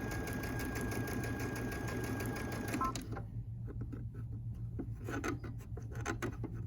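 A sewing machine fitted with a 1/4 inch presser foot runs steadily as it stitches a quarter-inch quilting seam. The motor whirs close and continuous before stopping abruptly; light fabric rustling and handling follow.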